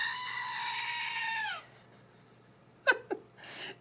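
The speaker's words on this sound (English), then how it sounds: "My goat, it's a screaming goat" A screaming goat toy lets out one long, loud, strained bleat that cuts off sharply. A pause follows, then a few short bursts of nearby laughter and voices.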